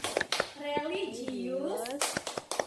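Schoolchildren in a classroom perform the PPK clap chant, with sharp bursts of group clapping at the start and end around a loud chanted line of voices in unison.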